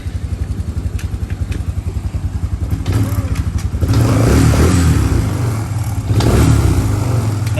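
A Suzuki LTZ 250 ATV engine runs close by, putting out a steady, throbbing idle that rises into a louder, rougher rev about halfway through and stays loud to the end.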